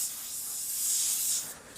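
An airbrush sprays thinned acrylic paint in one continuous close hiss lasting nearly two seconds, swelling slightly in the middle before tapering off.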